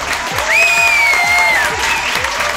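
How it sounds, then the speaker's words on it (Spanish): Studio audience applauding at a comedy game show season finale, with brisk, rhythmic clapping from a crowd and a bright whistle rising above it. "Aplauso."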